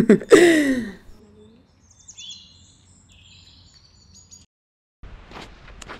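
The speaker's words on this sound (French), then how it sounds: "Il y a vraiment des oiseaux qui ont des chants très différents ici." Birds sing in a forest: a few high, thin whistled calls and chirps, fairly distant and faint, follow a loud brief opening sound, with quiet gaps and another short burst near the end.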